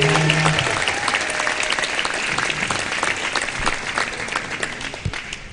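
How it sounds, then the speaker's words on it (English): Sustained crowd applause in a gym after a Class 1A Region 6 high school volleyball tournament, steady and even throughout with a faint voice briefly underneath. "Let's give all our teams a big round of applause."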